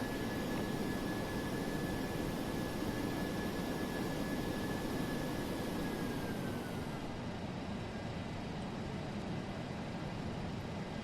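Jet engines of a DC-8-73F freighter in a flight simulator drone steadily as the plane taxis, a dense, continuous rumble with a thin whine that sags in pitch partway through, no voices.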